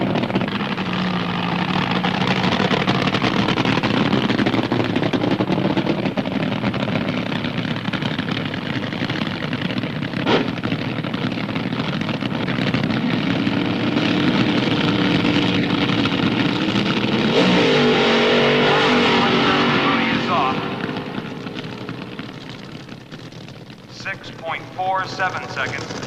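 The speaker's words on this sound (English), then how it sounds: "Typical Cerny horsepower on the burnout." A 1971 nitro drag racing car doing a burnout at the starting line, a loud, sustained engine roar lasting about twenty seconds, then dropping off and sputtering, with a commentator talking over it.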